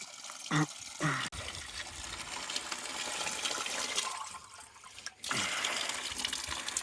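Water gushes with strong pressure from a mountain spring on a Carpathian ridge trail in Ukraine. The rushing flow is steady and close, and a few short knocks and brief breaks come near the start and end.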